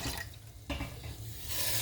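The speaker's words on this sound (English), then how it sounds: "we're going to go ahead and add our water" Four cups of water are poured into a pot while canning okra, a steady splashing stream that swells toward the end, heard close in a quiet kitchen.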